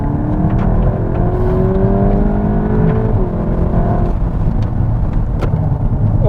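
A 2021 VW Golf GTI Clubsport accelerating hard in sport mode, its engine note rising steadily through the revs with a gear change partway, loud and close from inside the car over constant road roar.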